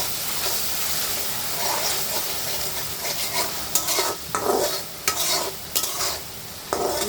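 Garlic fries in hot oil in a pan, a steady close sizzle broken by several sharp scraping stirs of a spatula toward the end.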